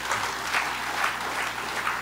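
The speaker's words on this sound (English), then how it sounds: "A big round of applause." An audience bursts into applause at a city government address, a dense wash of clapping with slight surges that holds steady and fairly close throughout.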